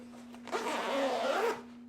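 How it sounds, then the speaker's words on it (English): The zipper on a Manfrotto Befree GT aluminum tripod carry case is pulled open in one continuous rasping stroke lasting about a second, close and clear over a low steady hum. "Ooh, zippers."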